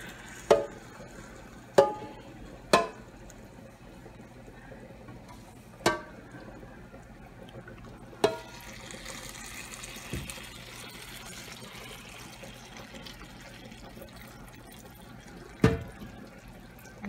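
Liquid poured into a pot of smothered neckbones, a soft steady trickle and splash in a home kitchen with a few sharp clicks of a utensil against the pot, quiet and close.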